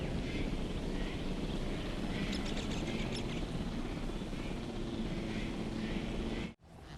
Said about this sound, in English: Helicopter departing.